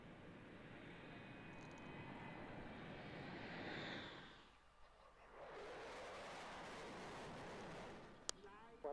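Aircraft taking off, a loud broadband engine roar that dips briefly then swells again into steady rushing noise, with a sharp click near the end.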